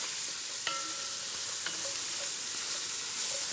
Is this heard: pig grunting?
no